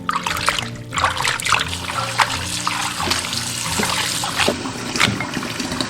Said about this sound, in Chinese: 接下来我们处理排骨，把它清洗干净